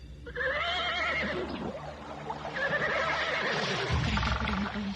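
A horse gives two long, loud whinnies close by as a horse-drawn carriage comes to a stop, with a faint rumble of hooves and wheels underneath.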